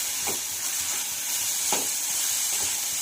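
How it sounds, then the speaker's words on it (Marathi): Steady frying hiss in a pan as ingredients for oats khichdi cook before the oats go in, with a few soft stirring scrapes rising over the constant sizzle, close and moderately loud. "तर याला छान असं फ्राय करून घ्यायचं आहे आणि त्यानंतर यामध्ये ओट्स घालायचे आहेत"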